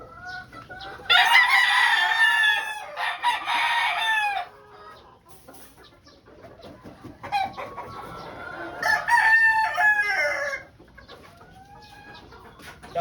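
Pure white Kelso gamefowl with straight combs crow loudly and close by in two long bursts, with clucking and scattered calls in the gaps between them.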